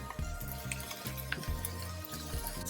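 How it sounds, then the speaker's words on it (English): Calamari sizzling in a hot pan for seafood paella, a steady crackling fry with repeated low scraping stirs and occasional light clinks of utensils, close and continuous. "Adding the seafood, we're going to start with the calamari."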